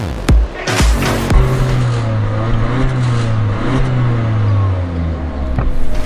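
An Audi A4 with a 1.4 Turbo FSI engine and standard exhaust revs loudly up close. A steady, droning engine note rises and holds for several seconds, and a few sharp knocks come near the start.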